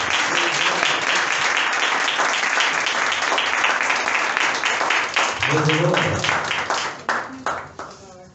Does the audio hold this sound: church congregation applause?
yes